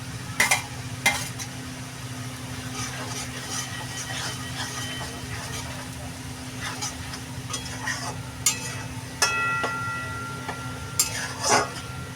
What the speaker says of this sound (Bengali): যত সময় মশলাটা দিয়ে তেল না বেরোবে তত সময় এটা ভাজতে হবে